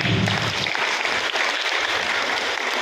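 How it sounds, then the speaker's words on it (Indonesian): Steady applause from a crowd fills the room at a digital evangelism training seminar in Bandar Lampung, continuous clapping at a fairly loud level with no talking over it. "Kita beri tepuk tangan."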